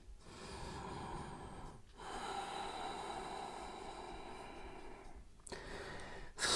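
Slow, deep breaths are taken during a forward-fold pose in a power yoga flow: long audible inhales and exhales close by, separated by brief quiet gaps, with no talking.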